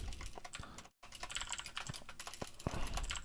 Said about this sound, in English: I need to slow down on my typing so I don't get so many typos.